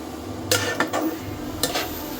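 Potatoes and beans seasoned with turmeric and salt are stirred in a pan, with a few sharp clinks and scrapes of a utensil against the pan over a faint background hum.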